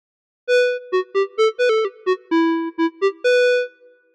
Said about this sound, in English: the square wave